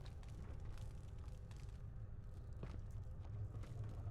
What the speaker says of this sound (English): I hear footsteps right here.